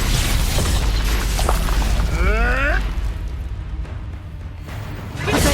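A Confringo blasting spell from Hogwarts Legacy bursts with a heavy boom and rumble, followed by warbling magical whooshes and mechanical creaks, loud and close.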